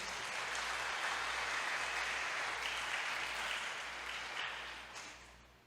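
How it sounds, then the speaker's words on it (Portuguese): A church congregation applauds during a sermon, a sustained wash of many hands clapping at moderate distance that holds steady, then tapers off at the end. "Vamos aplaudir ao Senhor por isso?"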